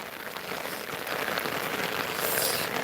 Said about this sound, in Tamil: எங்கள் ஊரில் நல்ல மழை பெஞ்சிகிட்டு இருக்கு அடமழை பெய்யும்பாங்கள்ல அதே மாதிரி பெய்யுது